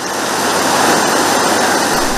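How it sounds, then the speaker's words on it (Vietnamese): A rain-swollen mountain stream in a border area of Nghe An province rushes strongly, producing a loud, steady roar of flowing water with no voices. "các khe suối nước chảy rất mạnh"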